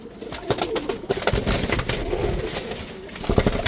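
Pigeons coo in a loft with soft, repeated throaty calls that overlap one another, mixed with rustling and fluttering close by.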